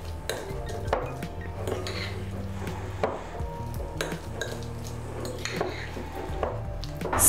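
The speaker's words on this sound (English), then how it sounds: "give it a good mix" A spoon scrapes and clinks in a bowl while stuffed pepper filling with bacon and a little salt is mixed, giving repeated knocks and scrapes in an irregular rhythm, close up, with no talk.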